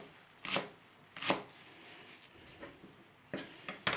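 A knife chops spring onions into large pieces on a board, with a few separate sharp thuds spaced unevenly and quiet pauses between them.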